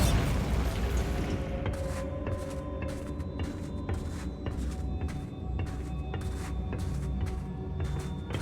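A Bombarda blasting spell goes off in Hogwarts Legacy with a sharp burst at the start, followed by a rapid, fairly regular series of crackling pops and rattles as the blast dies away.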